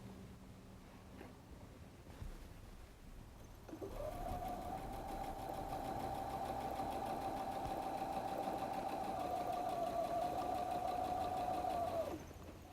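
A sewing machine stitches a messenger bag seam in one steady continuous run of about eight seconds, close and fairly loud, starting after quiet handling noise and stopping abruptly.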